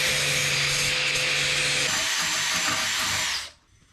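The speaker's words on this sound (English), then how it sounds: "So what I'm gonna do is, I'm gonna grind it," An angle grinder works metal before welding in a home garage, a loud steady high whine that drops slightly in pitch midway and then cuts off as the tool spins down.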